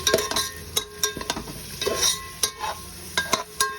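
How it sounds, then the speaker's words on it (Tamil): Mint and coriander leaves sautéed for beef vadi biryani, with a spoon scraping and clinking against the pan over a soft sizzle in quick, irregular strokes, close and fairly loud. "அப்புறம் ஒரு கைப்பிடி அளவு கொத்தமல்லி சேர்த்து நன்கு வதக்குங்க."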